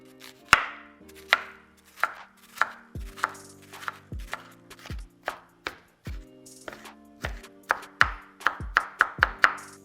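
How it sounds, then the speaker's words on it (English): A knife dices a white onion very small on a cutting board, each crisp chop landing separately in an uneven rhythm that quickens toward the end, close and clear with no voices. "I'm gonna be dicing the white onion. I'm gonna be dicing it very small."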